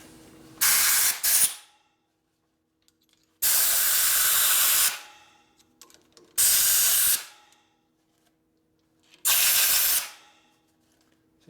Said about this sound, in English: So you blow the crap at the bottom of the case, it blows right in your face.